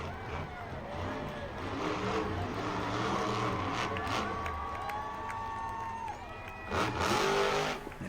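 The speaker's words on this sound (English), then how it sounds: "Alright, driving off on the track." A monster truck engine revs and whines as it drives off along an arena track at a monster truck event, the crowd cheering beneath it and an announcer talking over the action.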